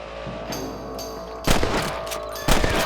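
Gunfire from the Red Dead Redemption video game, shooting at rabbits raiding the crops: a few faint shots, then two loud sharp cracks a second apart, each with a short echoing tail over low ambient noise.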